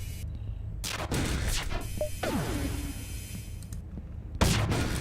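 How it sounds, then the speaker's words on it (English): Missiles striking a spaceship in FTL: Faster Than Light, sharp loud impact bursts with a whooshing descending streak in between, heard close and without talk. "they're hitting us with missiles"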